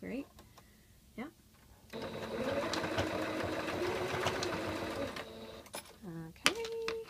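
A sewing machine runs steadily for about three seconds as it stitches elastic into a swim diaper. It is close and moderately loud, and a voice speaks before and after the run.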